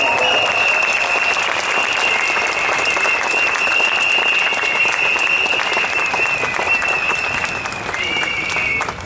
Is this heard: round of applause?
yes